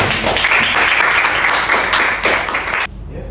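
Group applause in a classroom during a networking workshop on ACL and firewalls, steady dense clapping for about three seconds before cutting off abruptly, with faint voices mixed in.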